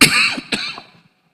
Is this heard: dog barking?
no